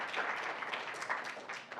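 An audience at a university GIS Day talk gives a round of applause, a faint, dense wash of clapping heard from a distance for a couple of seconds.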